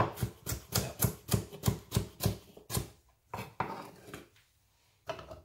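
A knife chops carrots into small pieces for homemade juice, a quick, even run of sharp taps on a board that slows into scattered, quieter cuts.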